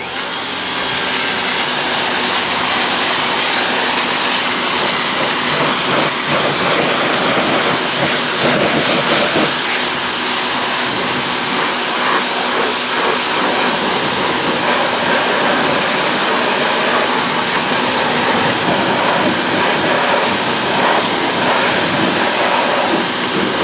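A gas pressure washer with a 25 degree nozzle sprays car wheels, its engine and water jet making a loud, steady roaring hiss that runs without a break, close up, with no talking.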